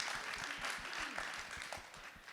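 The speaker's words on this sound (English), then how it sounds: "So everybody give a big round of applause for these two powerhouse panelists" Audience applause at an SXSW 2022 panel, a dense wash of clapping from a crowd that stays steady through the moment, with faint voices murmuring underneath.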